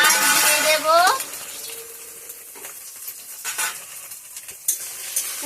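Onion and ginger hit hot tempering oil in a pan with a sharp sizzle that spikes loudly at first, then settles into a quieter crackle with occasional clinks of a spoon stirring.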